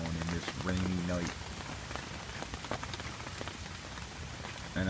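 Steady rain patters on a surface at night at a wet campsite, a continuous hiss with scattered drips, while a voice briefly speaks near the start and end.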